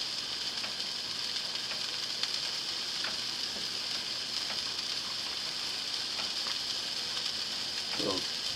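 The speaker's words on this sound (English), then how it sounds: "Alright, we got my burger cooking up." A burger fries in a cast iron pan with a steady, loud, close hiss of sizzling fat, broken by a few faint scrapes and a soft clatter near the end.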